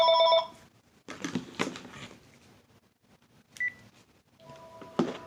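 A telephone rings in short electronic bursts, the first trilling tone clear and close, followed by clicks and beeps with quiet gaps and another tone near the end.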